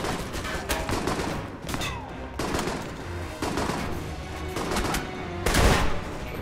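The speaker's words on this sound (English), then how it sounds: "Yep, there is someone shooting at us." Gunfire in the video game Alpha Protocol crackles in repeated bursts of shots, some sharp and close, others in rapid clusters, over a busy combat background.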